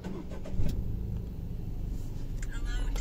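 Engine turning over and catching right after an NGK Iridium spark plug was fitted, then settling into a steady close idle with a brief rev near the end.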